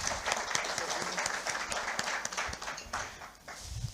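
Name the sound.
round of applause from the audience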